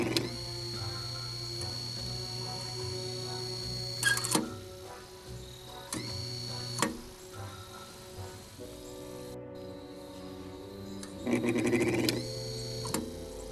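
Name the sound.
1920s quarter horsepower washing machine motor starting through rheostat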